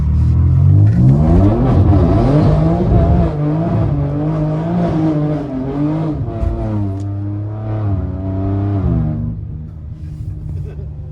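A 340-horsepower V6 rear-wheel-drive car accelerates hard, its engine note climbing and falling through gear changes with a loud, close rumble, then easing off near the end.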